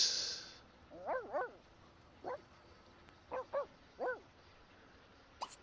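Two glitched dogs in The Sims 2 give a few short, faint barks and yips in quick pairs and singles, spaced across the moment with a quiet background between them.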